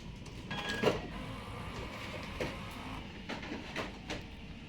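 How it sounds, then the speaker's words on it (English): An Epson-style large-format printer runs a print head cleaning cycle, pumping ink out of the head and dampers, with a low steady mechanical whir and a few soft clunks and brief whines of the pump and carriage. "Head cleaning started."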